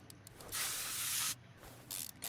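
A short aerosol spray hisses loudly on a lug nut during a front tire and brake job in Car Mechanic Simulator 2021, with one long burst and a shorter one after a pause.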